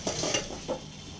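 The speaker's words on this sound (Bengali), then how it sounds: "সমস্ত মশলার সঙ্গে চিকেনটাকে কষিয়ে নিতে হবে" Chicken pieces stirred with spices in a hot pan for Bengali-style chicken ghugni, a soft steady sizzle with a few scraping stirs, close and moderately quiet.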